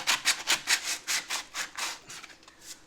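Rust is sanded by hand off the body of a 1965 Corvair in rhythmic, close back-and-forth rasping strokes, roughly four per second, that slow and soften toward the end.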